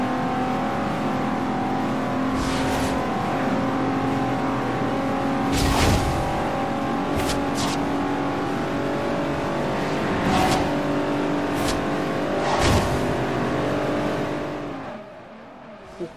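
A car in the racing video game Forza Horizon 2 roars along at around 400 km/h, its engine droning steadily with several sharp bursts and gear shifts before it fades out at the end.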